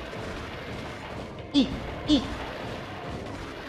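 Two sharp bursts, about half a second apart, from an explosion spell in a video game, over a murmur of background noise and short vocal exclamations.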